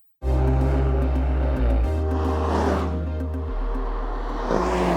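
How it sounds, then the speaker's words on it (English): A Mercedes-AMG C43 four-cylinder engine revving close by, loud and droning with deep harmonic tones that shift in pitch several times as the revs rise and fall, heard alone without talk. "As you can hear, the sound is not bad even for a 4-cylinder."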